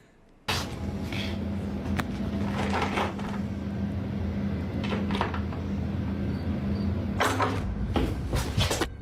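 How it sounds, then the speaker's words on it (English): A basement door handle is yanked and rattled in a creepy cellar, with a sharp onset followed by sustained clattering and rumbling, loud and close, bursts recurring over a steady low hum. "Behind one of the basement doors, something seems to move, and the door handle is yanked"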